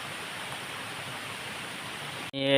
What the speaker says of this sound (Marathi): त्यानंतर पागावाडी धबधबो भेटता